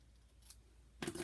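Scissors trim a ribbon bow: faint rustling, then one crisp, close snip near the end, quiet overall with no voices.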